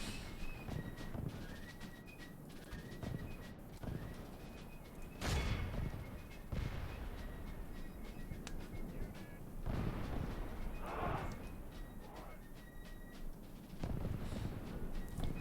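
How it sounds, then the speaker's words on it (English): Heavy cannon fire in the Medieval 2 English Civil War mod, with several booming blasts spaced several seconds apart over a constant rumbling battlefield din. "They've just lined up perfectly for the cannons to wreck them all"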